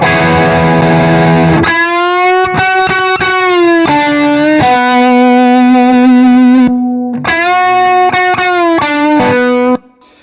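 A Hughes & Kettner Ampman Classic electric guitar amp with boost rings out loud, distorted and sustained, with strummed chords and held notes and a brief pause before the final phrases.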